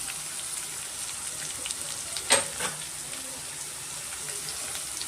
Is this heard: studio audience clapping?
no